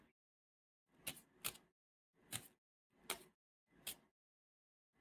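Tarot cards are shuffled by hand in five short, crisp riffling bursts separated by brief silences, quiet and close.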